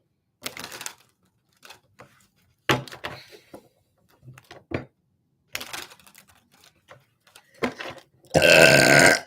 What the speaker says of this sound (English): Spirit makes me burp for those of you who are unaware